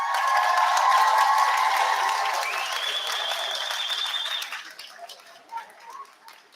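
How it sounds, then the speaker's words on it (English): A graduation ceremony audience gives a round of applause, a dense, steady clapping that thins out and fades into scattered claps toward the end. "giving them a round of applause"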